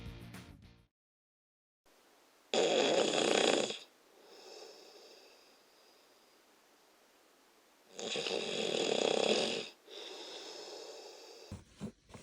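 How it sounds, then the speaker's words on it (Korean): A sleeping person snores heavily at night, two long rasping, snorting breaths several seconds apart, each trailing into a softer wheezy exhale, recorded close in a quiet room. "한 달 전에 비해서 지금 코골이가 좀 덜해?"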